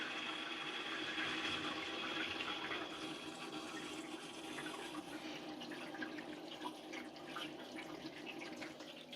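Water runs from a tap and drains through a sink siphon fitted without a corrugated hose, a steady, soft rushing and gurgling flow heard close and continuously, without talk.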